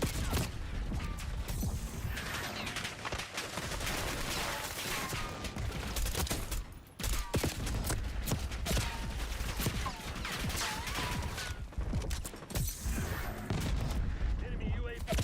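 Sustained automatic rifle fire from an AK-47 in the multiplayer shooter Call of Duty: Black Ops 6, with dense bursts of shots and game effects that run almost without a break, loud and close, with a voice talking over them.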